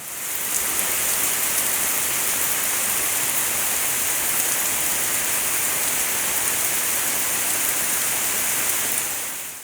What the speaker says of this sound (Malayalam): പുറത്ത് നല്ല മഴ പെയ്യുന്നുണ്ടേനും, ജസ്റ്റ് ഒന്ന് കാണിക്കട്ടാ